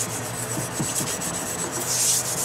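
An Arkansas sharpening stone is rubbed with Belgian Coticule slurry, giving a steady, close gritty scraping and rubbing with a box fan humming in the background.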